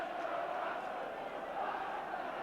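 Ipswich Town supporters roar and shout in a packed stadium during a match against Manchester United, a steady, distant wash of crowd voices filling the ground without a break.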